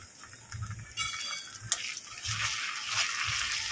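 Onion frying in a pan for a doi masala bhindi dish, giving a soft steady sizzle with intermittent stirring scrapes and clinks, close by and moderately quiet, with no talking.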